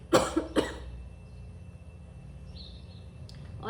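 Two quick, close coughs burst out in succession, then give way to a quiet stretch with faint high chirps in the background and a soft breath at the end.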